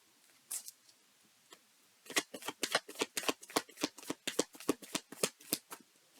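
A tarot card deck being shuffled close up: a few soft riffles at first, then a quick run of crisp, regular card flicks and snaps, with no voices.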